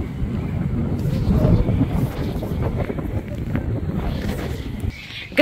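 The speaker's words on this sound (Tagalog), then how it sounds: "Grabe yung hangin." Strong wind buffets the microphone at World's End on the rocky Norwegian coast, a steady loud roar with gusts throughout, likely with sea water in the background.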